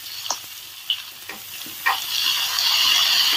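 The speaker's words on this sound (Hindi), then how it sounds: "अब इसमें हम डाल देंगे प्याज" Chopped onion, cut into thick chunks, hits hot oil with frying garlic and ginger in a pan, giving a few stirring clicks and then a steady, close hiss of sizzling that swells and holds.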